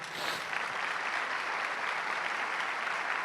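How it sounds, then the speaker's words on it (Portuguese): A church congregation applauds steadily throughout, a dense even wash of many hands clapping at a fairly quiet, distant level with no voices standing out. "Vamos aplaudir a Deus pela vida do Luciano?"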